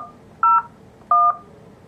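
Two short DTMF keypad tones from a Polycom IP 4000/6000 conference phone dialing an extension, evenly spaced beeps, clear and close, with no talk.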